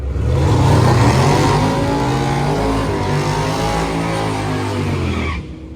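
Cars run at the WIR drag strip in Wisconsin, with a loud, sustained engine roar whose revving pitch climbs and shifts for several seconds before dropping away at the end.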